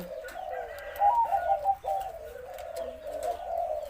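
Spotted dove cooing nearby, a series of soft hollow coos running in a rolling phrase with a brief pause, clear and alone.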